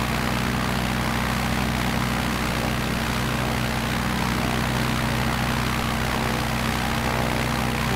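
A propeller plane's engine in Microsoft Flight Simulator 2020 on Xbox Series X, flying over a basin, gives a loud, steady droning hum that holds evenly throughout with no one talking.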